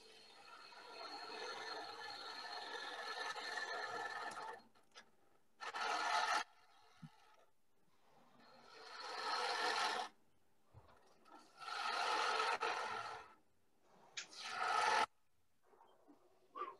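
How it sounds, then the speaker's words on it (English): A gouge cuts maple on a wood lathe while a birdhouse is turned, giving bursts of dry rasping and scraping that start and stop every few seconds with quiet gaps in between. "I'm rubbing my bevel the whole time I'm cutting."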